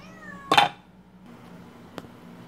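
A cat gives one short, loud meow close by, followed by faint room noise and a small click.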